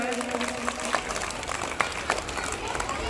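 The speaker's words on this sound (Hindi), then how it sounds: "जोरदार तालियां हो जाए।" Applause from a crowd, steady clapping with a few louder claps standing out, fairly close and continuous throughout.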